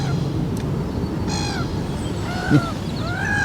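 Several gull calls ring out over a constant noisy background, scattered cries with a sharper squawk near the end.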